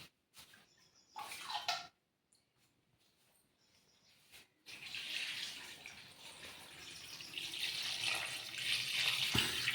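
Tap water gushes into a drum at home, starting after a few brief splashy bursts and quiet gaps, then settling into a steady, rising rush that fills the rest of the stretch.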